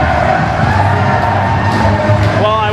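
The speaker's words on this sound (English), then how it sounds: "Just listen to this ovation." A wrestling arena crowd giving an ovation for Derek Janetti, loud sustained cheering and shouting with whoops rising over a dense roar of voices.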